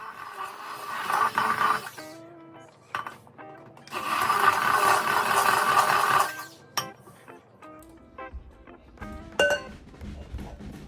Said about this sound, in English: It is a immersion blender.